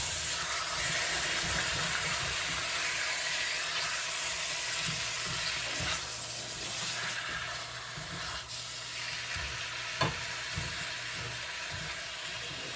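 Frozen potato gnocchi with peas and corn browning in a pan, giving a steady, fairly loud broadband sizzle and crackle throughout with occasional stirring scrapes and small pops, no talking.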